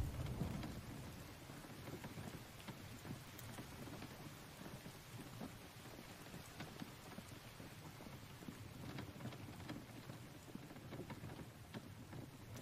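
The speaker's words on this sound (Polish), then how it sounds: "To ciągle pada." Continuous rainfall in the video game The Infected patters on a surface at a moderate, even level, with a faint low rumble beneath and no voices.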